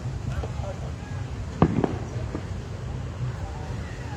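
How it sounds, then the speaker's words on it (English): Fireworks go off about a block away, heard as a few faint pops in quick succession over steady outdoor ambience while a person talks nearby during a golf round. "local fireworks store about a block away is shooting off their excess inventory"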